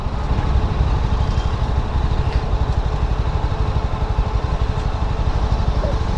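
Yezdi Scrambler motorcycle engine idles in neutral with a steady, close, rhythmic thrum that runs evenly throughout, with no other sounds standing out.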